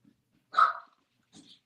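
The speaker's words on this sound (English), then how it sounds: "the dogs are barking" A dog gives a single loud bark indoors, followed about a second later by a softer short yip or whine, with silence in between.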